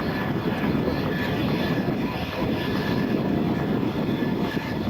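A propeller airplane flying low over the ground at an air show at Andrews Air Force Base, a continuous loud engine drone and rush that stays steady and fairly close throughout.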